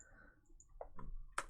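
Computer keyboard keys clicking in a few quick, faint taps with short gaps, close by and quiet, with no voices, while working in Unreal Engine 4.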